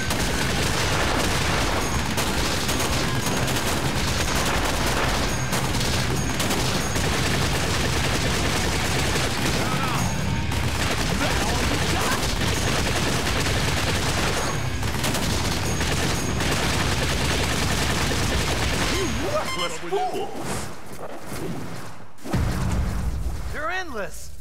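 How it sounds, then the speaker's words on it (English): Sustained machine gun fire in the arcade shooter Time Crisis 5, a loud, dense, continuous barrage running for about twenty seconds before a few final bursts and booms. "Machine gun."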